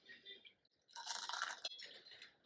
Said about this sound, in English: Ooh, listen to that crunch.